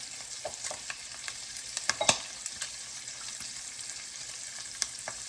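Flour-dusted salmon croquettes fry quietly in a pan with a soft, even sizzle and scattered small pops and crackles, faint and close.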